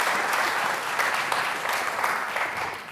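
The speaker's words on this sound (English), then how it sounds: "another round of applause for Chase Terrace Academy Food Bank" An audience at a community awards night keeps clapping, a dense, sustained roar of hands with slight swells and a gentle fade near the end, no voices on top.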